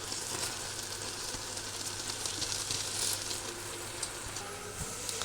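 Grated carrots for gajar halwa roast in ghee with milk cooking down, giving a steady, even sizzle and crackle throughout, close and moderately loud, with faint stirring ticks and no talking.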